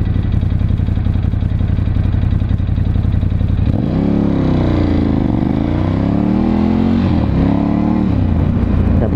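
Ducati Scrambler 1100 Special motorcycle with stock exhaust, loud and close: a steady rumbling idle, then the engine revs up and down in several rising and falling surges.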